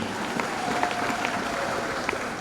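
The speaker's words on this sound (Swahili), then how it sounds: "Mpigieni makofi makamu mwenyekiti." An audience at a parish laity gathering applauding the vice chairman, a continuous burst of clapping at fairly loud level, dense and even throughout.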